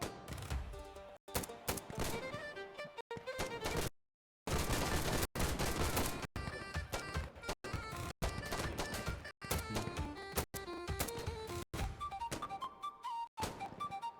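Sustained gunfire in the shooter game Insurgency Sandstorm: rapid bursts and volleys of shots with sharp percussive cracks, loud and dense throughout, broken only by a brief silent gap.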